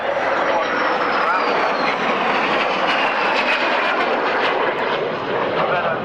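Jet aircraft powered by a 4850-pound-thrust Ghost engine, Swiss licence-built, flying at an Army Air Corps airshow at Middle Wallop in 1998: a loud steady roar filling the whole clip, with a commentator talking over it.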